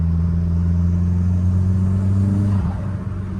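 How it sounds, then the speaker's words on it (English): A car with a hybrid turbocharger pulls hard under acceleration, a steady low droning roar that rises slightly before easing off near the end. "the way this car picks up is crazy"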